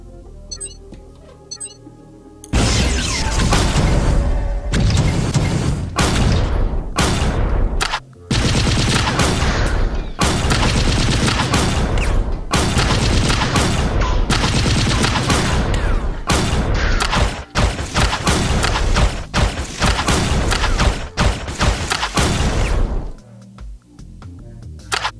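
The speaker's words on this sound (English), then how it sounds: "Plasma pistol is a good weapon to test that kind of stuff." Plasma pistol fire in a video game, a long run of loud, sharp repeated shots in irregular rhythm, mostly rapid clusters with brief gaps, set against a faint electronic tone.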